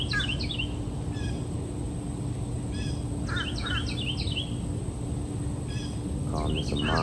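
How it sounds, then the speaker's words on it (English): Small birds chirp and trill in short bursts over a steady low background hum, fairly faint and moderately distant, with several separate calls scattered throughout. "Birds are chirping."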